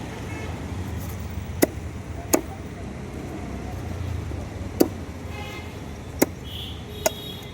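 At a fish market, a blade chops through fish in sharp, isolated thwacks, five strikes spaced a second or more apart over a steady hum of market and road noise.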